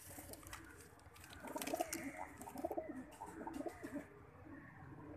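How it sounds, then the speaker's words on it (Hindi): Several pigeons coo softly in a loft, low murmuring calls overlapping in an irregular rhythm, faint and close with no talk. "सात कबूतर हो गए हैं।"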